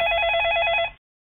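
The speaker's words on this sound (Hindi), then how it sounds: "ये सुबह सुबह किसका फोन आ रहा" A telephone bell rings loudly and close in a steady trilling burst that lasts under a second, then cuts off abruptly into silence.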